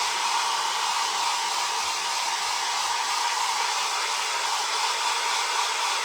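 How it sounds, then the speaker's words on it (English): A loud hair dryer blows a steady, broadband roar throughout, close and unbroken, while drying a decoupage rice-paper design on a bottle; no voices are heard. "And this dryer is really loud."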